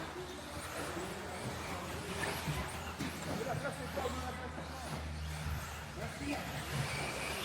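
A Hobbytech Xmid RC buggy runs laps on an outdoor RC park track, its motor whining steadily at a distance beneath continuous chatter from people nearby.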